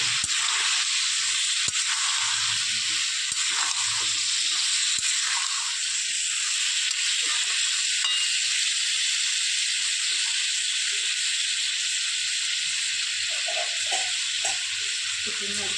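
Sweet potatoes fry in a pan with dry cumin and chilli, giving a steady, close sizzling hiss that runs throughout, with faint scraping of stirring underneath.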